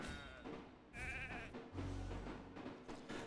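A sheep bleats from a transformation ability in a video game: quiet, wavering cries over a low game soundscape.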